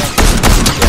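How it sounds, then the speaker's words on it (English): Rapid gunfire in the Fortnite video game, three or four loud bursts of game shots arriving in quick succession over a steady background, with no talking. "Oh, they're shooting. Whoa, they're shooting."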